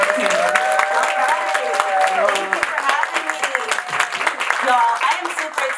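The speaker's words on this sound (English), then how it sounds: "you all please give a big round of applause to State Representative Park Cannon" An audience at a summer conference keynote claps for Georgia State Representative Park Cannon, a sustained round of applause mixed with cheering and talking voices on top.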